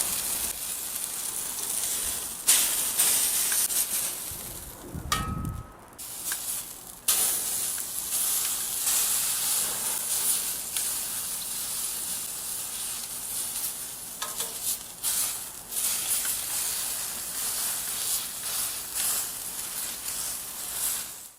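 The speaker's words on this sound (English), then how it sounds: "We can just rest the finished cut in the pan with the vegetables while we sear off the second piece." Steak searing in a smoking hot iron pan with vegetables for steak fajitas, a steady bright sizzle running throughout, close and fairly loud, with a few brief clatters and stirring noises.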